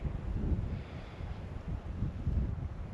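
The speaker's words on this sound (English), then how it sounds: "that wind is chilly" A chilly night wind blows through a New Mexico canyon at a truck campsite, a steady low rumbling buffet against the microphone with gentle gusty swells and no voices.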